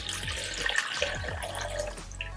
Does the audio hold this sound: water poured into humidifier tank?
yes